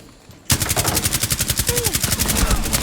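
Rapid automatic gunfire in the video game Rainbow Six Siege starts abruptly and rattles on as a steady, loud burst of evenly spaced shots, with a faint voice in the background.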